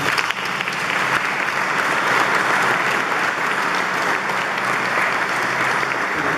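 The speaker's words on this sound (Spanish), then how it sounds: "Le damos un aplauso." A church congregation gives sustained applause, a dense, loud, even roar of clapping from many hands that never lets up.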